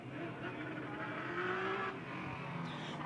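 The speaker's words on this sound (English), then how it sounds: "Final set of Lightning Sprint hot laps before we get into opening ceremonies" Lightning Sprint race cars running hot laps on a dirt oval at Placerville, engines roaring close by with rising and falling pitch as cars pass, loud and continuous with a commentator talking underneath.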